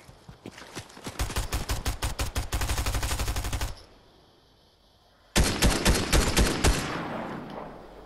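Video game gunfire: two loud, close bursts of rapid automatic fire, the first lasting about three seconds after a few single shots, then a pause of near silence before a second burst that rings out and fades.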